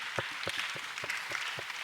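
Children clapping for the pastor inside a church, a small group's applause with uneven claps running steadily throughout, moderately loud and close, with no talking.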